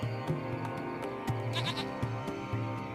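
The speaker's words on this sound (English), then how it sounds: "It's a small goat." Small goat hiding underneath a hut bleats repeatedly in short wavering calls, several bleats in quick succession over a steady background, fairly close.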